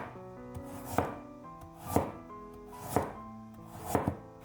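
A knife cuts through half a peeled carrot into thin slices on a cutting board, four crisp evenly spaced chops about a second apart, close and clear with no talking.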